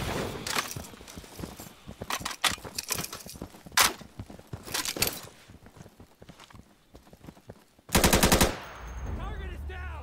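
Gunfire in the video game Insurgency comes as scattered single shots and short bursts, then a dense rapid automatic volley near the end, loud and close.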